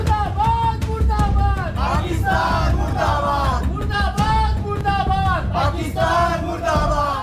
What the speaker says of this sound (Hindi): इस दौरान वहां पाकिस्तान के खिलाफ जमकर नारेबाजी भी हुई।